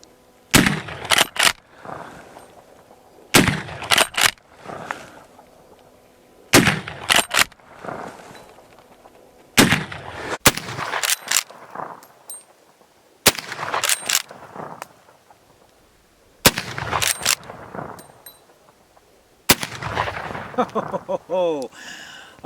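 An 1886 Winchester rifle fires seven loud, sharp gunshots spaced roughly three seconds apart, each followed by a short echoing decay outdoors.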